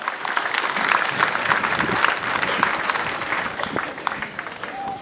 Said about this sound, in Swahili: tuwapigie makofi ya heshima